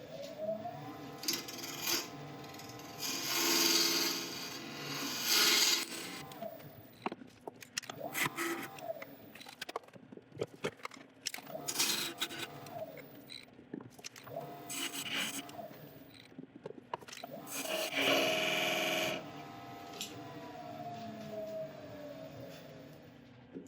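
A wood lathe cutting a tenon into a resin lid, with intermittent scraping and hissing tool passes that swell and fade in several long bursts between quieter stretches of motor hum.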